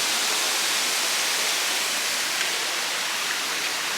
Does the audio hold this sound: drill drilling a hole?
no